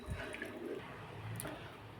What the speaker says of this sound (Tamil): தேவையான அளவு தண்ணி ஊற்றிங்க